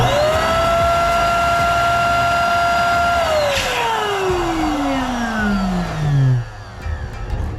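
An electric balloon pump inflating a green balloon for a spiral balloon arch, a loud steady motor whine that then drops in pitch as the balloon fills, ending with a brief rustle.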